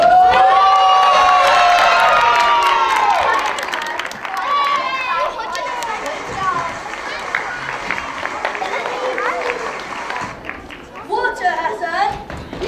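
A school assembly crowd of children cheering and shouting loudly for their house teams, a dense roar that fades into excited chatter and scattered applause, with a voice speaking over it.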